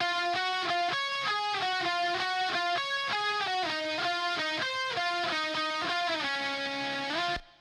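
Distorted electric guitar from an emo mix, run through an amp sim with a reverb plugin set to Arena, plays a steady sequence of sustained notes before cutting off abruptly at the end.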